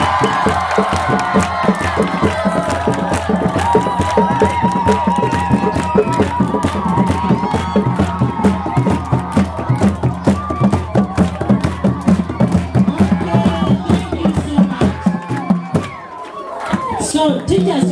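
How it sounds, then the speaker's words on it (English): A crowd cheers, whoops and claps nonstop to welcome a children's choir at a school recess event in Lusaka, a loud dense roar with children shouting and chatter mixed in. "Can you now welcome them with a very big hand clap?"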